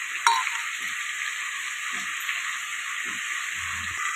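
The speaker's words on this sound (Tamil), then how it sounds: "வெங்காயம் தக்காளி நல்லா வதங்கிட்டு இருக்கட்டும்." Chopped onion and tomato sautéing in a pan, a continuous close sizzle with soft occasional stirring scrapes and light clinks, no voices.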